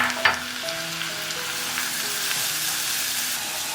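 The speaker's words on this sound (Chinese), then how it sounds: "用小火慢炒，稍稍炒去它的辛辣味就可以来调味" Garlic and ginger stir-fry gently in oil over low heat, a steady close sizzle with an early utensil clink and light scraping throughout.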